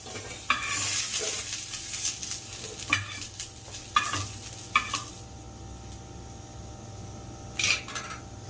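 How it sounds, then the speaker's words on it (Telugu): Green chillies fry in two spoonfuls of oil in a pan, a soft steady sizzle beneath several sharp metallic clinks and scrapes of a spoon against the vessel. "పచ్చిమిరపకాయలు వేయించుకుంటాను."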